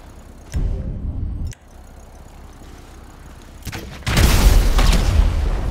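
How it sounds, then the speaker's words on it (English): Explosions in the ocean in Grand Theft Auto V: a short booming burst, a quieter rumbling stretch, then a louder, sustained roaring blast that fills the end, with no talking. "Explosion in the ocean."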